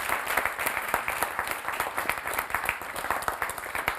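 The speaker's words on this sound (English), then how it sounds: "let's give a hearty clap to our guest speaker" An audience at a talk show gives a guest speaker a hearty round of clapping, individual claps distinct and rhythmic, moderately near and steady for the whole stretch.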